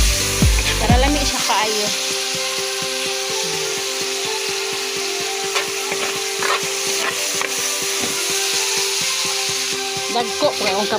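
Tomatoes frying in a pan with a steady loud sizzle while a utensil scrapes and stirs them in repeated strokes; a voice speaks briefly at the start.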